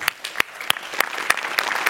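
Sparse applause from a studio audience at a Marathi comedy show, with a handful of sharp, separate claps spaced out over about two seconds, fairly faint and with no talking.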